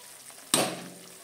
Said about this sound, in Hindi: आपल्याला हा मसाला चांगला परतून घ्यायचा आहे, तेल सुटेपर्यंत